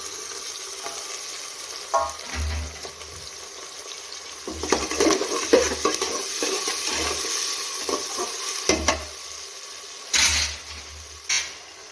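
Tomatoes frying in oil in a pan for masale bhat, sizzling steadily with intermittent scraping and stirring bursts close by, no talking.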